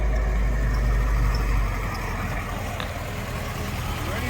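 A 1946 Willys CJ-2A jeep engine idling with a steady low rumble that drops slightly in level partway through, heard close over faint background noise.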